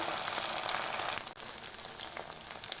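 Chicken kebab pieces fry in oil in a pan over a medium flame, giving a dense, continuous crackling sizzle with scattered sharper pops, briefly dipping partway through.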